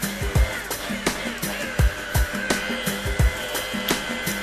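A rotary polisher buffs a fibreglass surface with Dulon polishing paste, its motor droning steadily close by while soft rhythmic thumps repeat roughly every half second as the pad turns against the panel.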